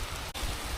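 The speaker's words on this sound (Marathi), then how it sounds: "लयच मोकर जोरात आलाय पाऊस आता" Heavy pre-monsoon rain pours down by a hillside in a dense, continuous hiss, briefly dipping for an instant.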